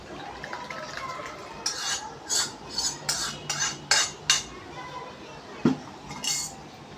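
A spoon clinks and scrapes against a metal bowl while raw mango pickle is stirred with oil and ground spices, a series of distinct rhythmic clatters over faint background noise with a soft thud near the end.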